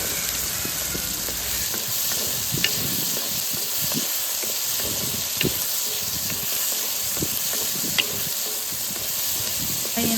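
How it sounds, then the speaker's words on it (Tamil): Ginger, garlic, onion and tomato sauté in a pan for mutton gravy, giving a steady close sizzle and hiss with occasional faint stirring clicks. No voices. "இஞ்சி, பூண்டு, தக்காளி எல்லாம் போட்டு நல்லா வதக்கி எடுத்தாச்சு"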